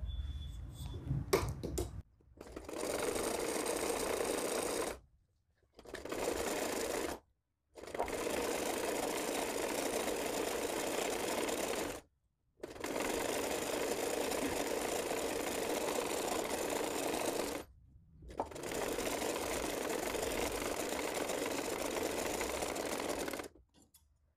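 Sewing machine stitching a strip onto a yellow girl's dress, running in several long steady bursts separated by short pauses, close and fairly loud with no talking.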